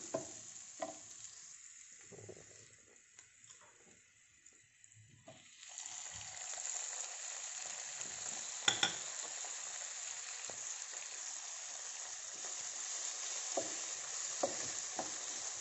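Onion and tomato sautéing in a pan for Bombay sambar, a soft hissing sizzle with scattered stirring scrapes, quieter at first then rising into a fuller steady sizzle, with no talking.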